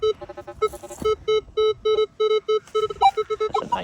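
Rapid short electronic beeps from a Minelab metal detector over iron-rich ground, in quick succession, mostly one steady pitch with a few higher blips near the end, faint and without speech.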